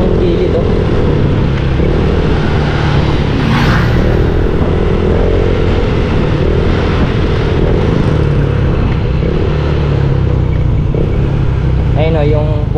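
Honda Click scooter riding through traffic while overtaking, a steady loud engine drone mixed with wind and road rumble throughout, with a voice speaking over it.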